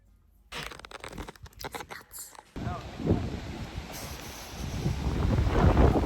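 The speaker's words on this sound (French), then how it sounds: "il y a grave du vent" Strong wind buffeting the microphone in a loud, continuous rush, preceded by brief whispery rustling.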